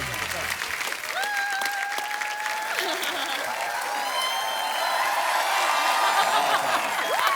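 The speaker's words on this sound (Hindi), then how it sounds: "जोरदार तालियां जैकलीन और सिद्धार्थ मल्होत्रा के लिए" A studio audience at a TV comedy talk show breaks into sustained, lively applause with whoops and cheers, a full steady crowd sound of moderate loudness.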